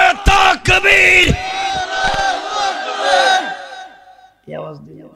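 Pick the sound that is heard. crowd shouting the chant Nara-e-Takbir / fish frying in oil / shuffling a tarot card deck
crowd shouting the chant Nara-e-Takbir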